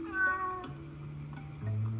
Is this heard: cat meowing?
yes